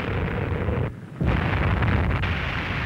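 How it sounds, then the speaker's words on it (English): Massive nuclear test blast tearing through a naval fleet centered on the aircraft carrier Saratoga: a loud, sustained roaring rumble, briefly dipping before surging back into a dense, continuous thunderous wash. "Within seconds, an entire naval fleet is demolished."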